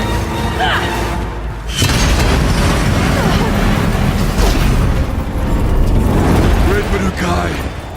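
Explosive ammo detonating in Horizon Zero Dawn's Frozen Wilds expansion on PS4, loud booming blasts with rumbling debris that swell and linger over several seconds, sitting close and heavy in the game's mix.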